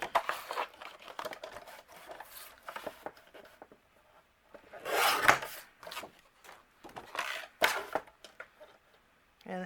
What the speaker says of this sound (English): You can take your gold cardstock. I'm going to trim this down.